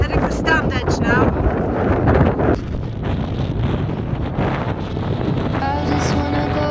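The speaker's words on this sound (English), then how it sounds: "And it's very, very windy." Strong wind buffets the microphone in loud, continuous gusts on the Pennine Way moors near Standedge, with a voice talking briefly over the roar near the start and again toward the end.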